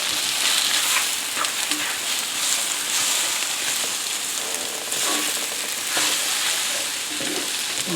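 Eggs stirred into a hot frying pan sizzle with a constant crackling hiss, and faint scrapes of stirring rise and fall beneath it.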